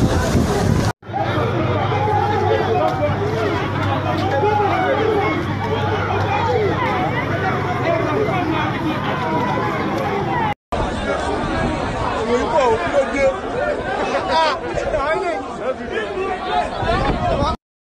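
A large outdoor crowd chatters loudly and continuously, a dense babble of many overlapping voices close by, with one brief cut partway through.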